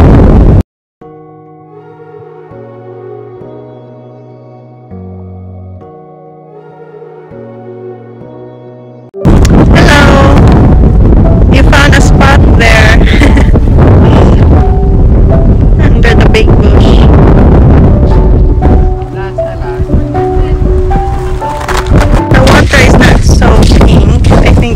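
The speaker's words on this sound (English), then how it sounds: "Yeah, it's also windy." Wind blows at Pink Lake in Dimboola, first a quieter passage with tonal layers, then heavy buffeting gusts roaring loud and close against the microphone for most of the stretch.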